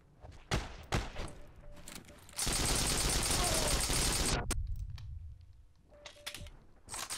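Gunfire in the online war game Heroes & Generals: a few sharp shots, then a sustained loud burst of automatic fire lasting about two seconds, followed by more scattered shots and clicks, with no speech heard.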